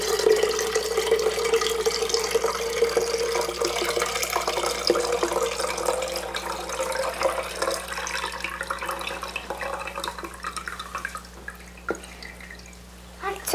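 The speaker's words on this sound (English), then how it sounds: "We're gonna pour the buttermilk off." Buttermilk is poured off homemade butter in a jar, a continuous trickling, splashing pour that thins into drips and quiets toward the end.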